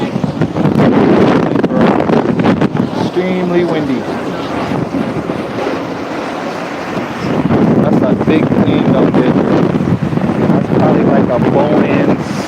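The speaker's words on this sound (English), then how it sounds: "Extremely windy." Strong wind buffets the microphone outdoors on an airport apron beside a smaller passenger plane, a loud continuous roar with gusty surges under intermittent talk.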